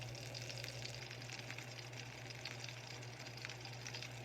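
A plant-based Beyond Burger patty fries in a pan, giving a steady, faint crackling sizzle with a low hum underneath, constant and uninterrupted.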